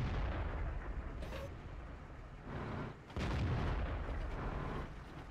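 Tank cannon shots and heavy booms in the World of Tanks video game on the Himmelsdorf map, with a sharp report early and another deep blast near the middle over a constant rumbling battle background.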